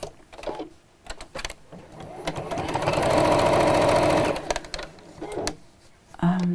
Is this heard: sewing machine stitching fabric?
yes